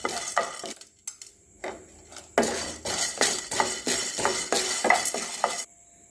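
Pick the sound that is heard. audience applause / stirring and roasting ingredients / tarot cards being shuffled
stirring and roasting ingredients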